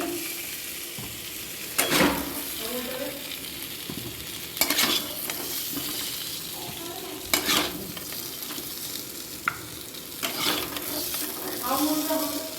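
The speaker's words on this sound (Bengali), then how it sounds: "দেখুন আলুগুলো নাবিয়ে নিচ্ছি কত সুন্দর ভাজা হয়েছে একটু লাল লাল করে নুন হলুদ দিয়ে ভেজেছি" Potatoes fried with salt and turmeric sizzle steadily in oil, broken by periodic scraping knocks of a spatula as they are lifted out, with a faint voice now and then.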